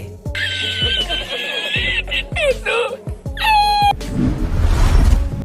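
A cat cries out loudly in several drawn-out, wavering meows close by, followed by a burst of harsh rustling noise.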